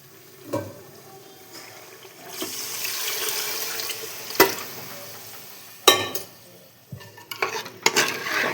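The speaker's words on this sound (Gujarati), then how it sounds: "હવે આમાં આપણે પાણી એડ કરીશું" Water is poured into a pot of masala-coated vegetables for khichdi, giving a rushing, splashing pour that swells for a couple of seconds. Scattered clinks and a soft sizzle follow, close by, with no talking.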